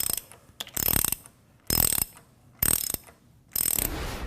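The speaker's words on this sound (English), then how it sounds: "we can begin tightening the jacking bolt, pulling the rotating assembly away from the volute" Jacking bolt on a Gorman Rupp Super T10 pump mounting ring being tightened with a ratchet, four loud close bursts of rapid clicking separated by short pauses, no voices.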